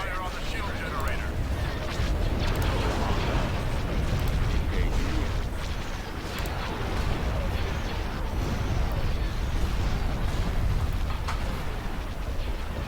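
Space battle weapons fire and explosions in Empire at War, a dense, continuous barrage of booming blasts and rumbling bursts at steady high loudness, with a voice speaking over the din.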